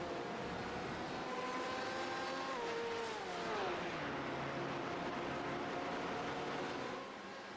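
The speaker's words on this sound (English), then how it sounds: "Oh, they sound amazing. The Porsche sounds incredible." Porsche GTE race cars in a racing video game roar steadily, their engine notes sweeping downward mid-clip as they brake and downshift, then holding a sustained whine, with no talk.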